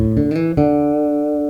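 A melodic bass guitar line with a couple of picked notes, the last held long with gentle vibrato, sounding clear and close with no talking.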